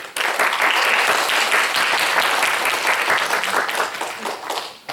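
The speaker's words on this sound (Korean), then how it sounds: "우리 자리에서 인도하시면 박수로 환영하겠습니다" A church congregation breaks into sustained applause to welcome back a deaconess after a long illness, dense clapping from many hands filling the room steadily before tapering off at the end.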